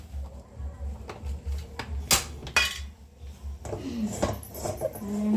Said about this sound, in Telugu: స్టవ్ మీద మంచి బాండి పెట్టేసుకొని దాంట్లో తగినంత నెయ్యి వేసుకోవాలి